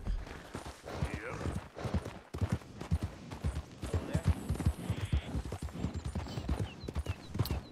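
A horse's hooves clip-clop near a stable in the video game Red Dead Redemption 2, a brisk, uneven run of close, clear hoofbeats lasting throughout, with soft ambient game sound behind.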